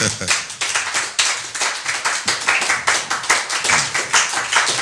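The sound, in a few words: congregation clapping to acclaim Jesus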